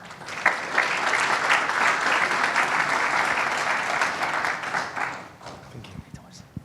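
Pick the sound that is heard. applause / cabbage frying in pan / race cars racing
applause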